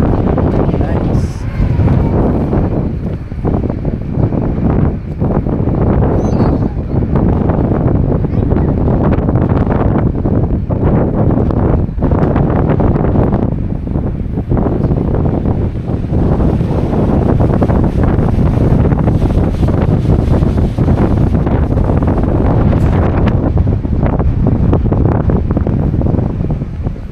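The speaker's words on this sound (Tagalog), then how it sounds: "Mahangin dito." Strong wind buffets the microphone in Victoria, British Columbia, with a loud, continuous rumbling roar that rises and falls in gusts, with water and an engine faintly underneath.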